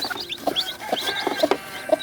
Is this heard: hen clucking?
yes